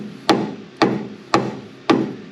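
Four evenly spaced, sharp hammer taps ring out up close as a Firebird front suspension part is knocked into place, each hit a crisp metallic strike with a short decay.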